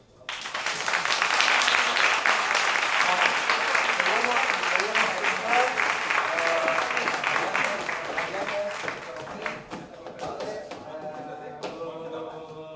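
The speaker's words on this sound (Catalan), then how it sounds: "I un aplaudiment" Sustained applause from a sizable group at a children's theatre class, loud and dense, with chatter and voices mixed in, gradually thinning toward the end.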